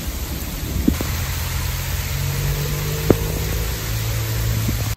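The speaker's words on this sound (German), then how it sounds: "Es fängt an zu regnen." Rain on a hike in South Tyrol, heard as a steady loud hiss, with a low hum underneath and a couple of brief knocks, no voice.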